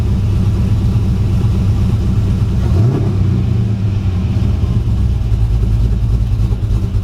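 A 1976 Chevy C10 pickup engine runs close and loud, a steady low rumble held for the whole stretch, with a brief shift in pitch about midway.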